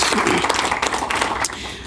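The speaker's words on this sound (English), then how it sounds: "Let's join me in giving them a round of applause." Audience applause at a board educational day meeting, a dense, steady wash of clapping from a room of people, moderately loud throughout and tapering slightly toward the end.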